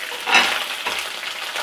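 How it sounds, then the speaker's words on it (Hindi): Garlic, cumin seeds and green chillies hit hot oil with a sharp burst of sizzle, then settle into a steady close hiss with a brief stirring scrape, no voices. "अब लहसुन और ज़ीरा और हरी मिर्चें सारी चीज़ें मैं एक साथ इसमें डाल दूंगी"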